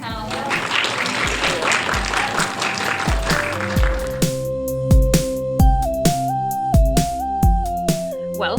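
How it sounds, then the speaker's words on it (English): Applause from a panel audience fills the first few seconds, then fades out as a steady electronic music tone and rhythmic beat take over. "Can we get a round of applause for our amazing panelists?"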